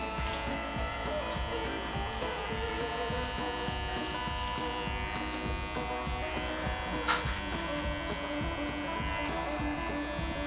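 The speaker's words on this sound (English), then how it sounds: "Get our clippers out of the way." Electric hair clippers buzz continuously up close as they trim and clean up the neck during a barber haircut, a steady vibrating drone with small shifts in pitch as the blade moves.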